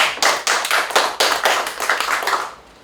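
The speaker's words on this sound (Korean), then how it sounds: "박수 한번 드립니다." A small group claps in unison at a prayer gathering, about a dozen sharp, evenly spaced rhythmic claps close by, then stopping abruptly into quiet.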